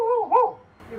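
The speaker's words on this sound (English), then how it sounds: "There's a dog licking my foot." A dog in a Bali village near a waterfall gives a short, close bark followed by a brief whine, then a moment of quiet.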